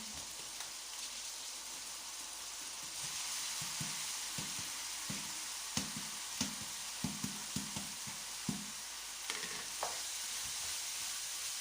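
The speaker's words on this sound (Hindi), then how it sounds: "अब हम इसके अंदर अपनी जो मूंग की दाल है उसको डालते हैं।" Moong dal is tipped into a simmering gravy in a pan and stirred. A soft steady sizzle runs underneath, and a series of evenly spaced spoon scrapes and taps comes through clearly in the middle.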